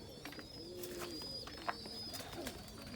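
A pigeon or dove coos softly in a few low, rounded phrases, set among faint chirps from other birds in a quiet aviary where peanuts are fed as treats.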